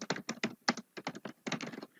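Typing on a computer keyboard in a Google Meet chat: quick bursts of crisp key clicks in an irregular rhythm, close and clear, with no talking.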